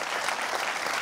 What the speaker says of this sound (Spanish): No dejen de aplaudir para recibir como se merece esta guapísima mujer